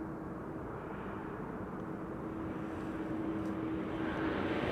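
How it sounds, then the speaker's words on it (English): Air France Embraer jet on a KLM flight arriving at Amsterdam Schiphol on a frosty, sunny day, its engine roar a steady broadband rumble with a faint whine, growing slightly louder toward the end, no talk. "It's a KLM flight, but an Air France Embraer."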